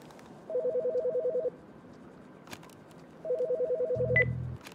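Telephone in the video game As Dusk Falls rings in two bursts of rapid trilling bell tones, separated by a pause, followed by a short low electronic beep.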